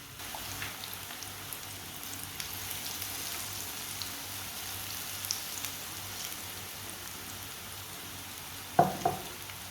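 Batter-dipped kebabs fry in hot oil on a stove, a soft continuous sizzle and crackle with scattered pops, ending in a brief clatter of a utensil.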